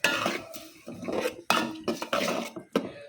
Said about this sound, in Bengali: কাশ্মীর বাবার জন্য তরকারি বসাইছি একদম কষায় নিচ্ছি